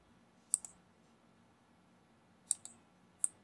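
Mouse clicks while working in Blender 3D modelling software: a quick double click, then after a pause another double click and a single click, crisp and close in a quiet room.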